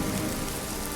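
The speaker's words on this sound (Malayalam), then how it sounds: "ഞാനറിയാതെ എന്നിലേക്ക് പെയ്തിറങ്ങുന്ന ഈ മഴയുടെ ഓരോ തുള്ളിയും" Steady rain pours down in an even, close wash of patter, with no voices or other sounds breaking through.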